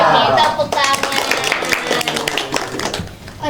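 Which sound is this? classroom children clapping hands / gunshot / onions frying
classroom children clapping hands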